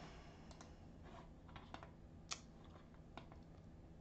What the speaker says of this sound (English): sorry for the clicking.